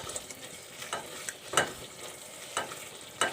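Spices roasting in a pan for dal mash, with soft sizzling and a few distinct scraping stirs of a spoon at irregular intervals, close and fairly quiet, with no talking.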